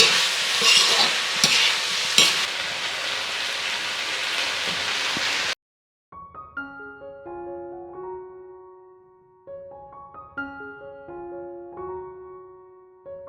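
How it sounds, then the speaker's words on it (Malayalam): Food stirred in a pan in a home kitchen, a bright scraping rattle with a few sharp knocks over a few seconds, then the sound stops and a melodic tone plays alone. "ഒന്ന് ഇളക്കിയിട്ട് അടച്ച് വെക്കാം കേട്ടോ"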